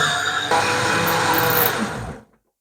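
A kitchen blender whirs at high speed, mixing a pineapple milkshake; a steady loud motor drone jumps up slightly after a moment, then winds down and cuts out into silence.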